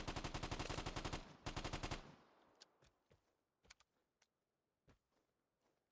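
An H-bar gun in a video game fires a rapid, loud burst of automatic fire for about two seconds, then leaves a few scattered, fainter clicks and thuds.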